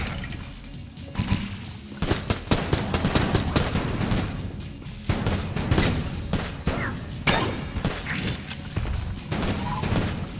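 Rapid bursts of gunfire shooting bosses in Enter the Gungeon, dense crackling volleys and sharp impacts repeating almost continuously, loud and busy with occasional crashes and thuds.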